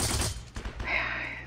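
Short burst of MP40 submachine gun fire in the World War II shooter Heroes and Generals, faint and slightly distant, followed by a brief ringing tail.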